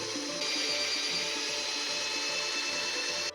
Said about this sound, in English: I've got this crazy long drill bit which will go deep inside the wood